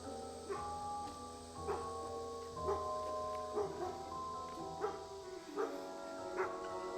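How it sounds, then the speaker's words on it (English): A puppy on a nature park walk gives a series of short, high yips and whimpering barks, repeating roughly every second, fairly faint and a little distant, with no talking. "There's a puppy."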